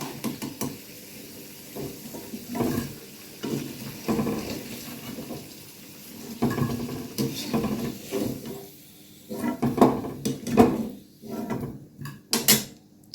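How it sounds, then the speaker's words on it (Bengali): Fried potato pieces being lifted out of hot oil in a pan with a spatula, giving irregular scraping, clattering and light sizzling bursts close by. "আলু ভাজা হয়ে গেছে, আমি এবার আলুটা উঠিয়ে রাখবো।"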